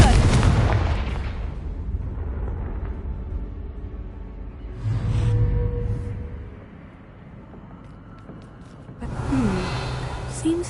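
In a video game, the Confringo blasting spell sets off booming explosions in a couple of separate bursts, with a voice and breathy gasps heard between them.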